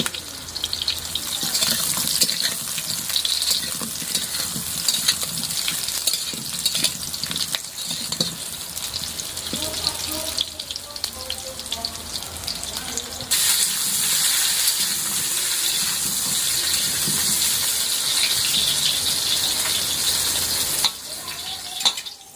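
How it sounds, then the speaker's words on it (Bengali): Cut potatoes frying in hot oil in a pan, a steady bright crackling sizzle throughout that swells louder and fuller partway through, with occasional stirring scrapes. "তেলটা গরম হয়ে গেছে, আমরা এবার আলুগুলো ভাজবো।"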